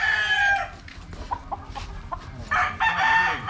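Pet chickens cluck and squawk close by, a busy flock with repeated loud calls and a rooster-like crow, against rustling outdoor background noise.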